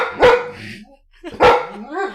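A dog gives two loud, close barks about a second apart, with a rough, growly edge and a rising whine-like tail after the second bark.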